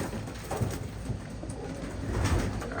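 Racing pigeons coo softly in a loft, a low steady murmur of several birds close by with no talk over it.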